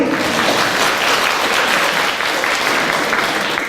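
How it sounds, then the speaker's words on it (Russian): Dense, steady applause fills a school's last-bell graduation ceremony for eleventh-graders, a continuous loud wash of many hands clapping without pause and no voices on top. "Здесь аплодисменты."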